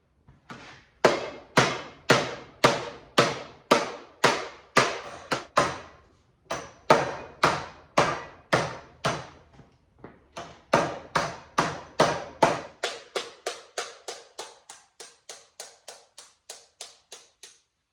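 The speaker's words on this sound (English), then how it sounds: "that's kind of preparatory for hammering this thing out" Steady, repeated metal hammer blows ring out one after another on a sheet metal rear fender for a 1951 Willys Jeep, with a brief pause midway, then quicker, lighter taps that fade toward the end.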